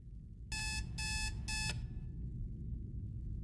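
Three quick bursts of a shrill electronic alarm clock ring out in an even rhythm inside a motel room in a horror game, each about a third of a second long, then stop, leaving a low background hum.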